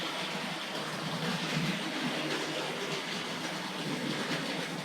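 A Hornby model train locomotive rumbles steadily along its track, a continuous whirring hum with faint rhythmic clicking, close by and unbroken.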